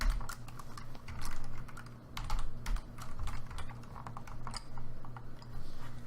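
Rapid, close keystrokes on a computer keyboard while writing HTML code, clicking in uneven bursts over a low steady background hum.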